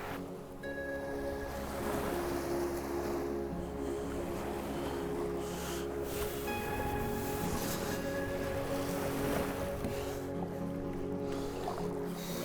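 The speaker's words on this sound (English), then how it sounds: "that wind's actually picked up as well" Steady wind blows at sea around a small boat out squid fishing. The rushing is constant and close, with water and hull sounds mixed in and no speech.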